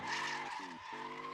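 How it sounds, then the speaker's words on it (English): Drag radial rear tires squeal as a street-legal car does a burnout, a loud sustained wail over the engine's tone that dips briefly and then picks back up. "It's a burnout machine, and I have drag radials on the back."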